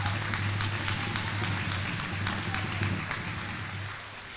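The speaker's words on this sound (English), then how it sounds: "Would all in attendance please give yourselves a round of applause?" An audience at a graduation ceremony claps in a sustained round of applause that tapers off slightly toward the end, with a low hum underneath.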